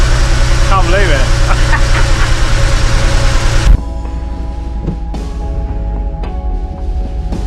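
A vehicle engine started for the first time, running at a steady, loud idle with a low, rumbling drone that drops to a quieter idle partway through, with a person talking over it.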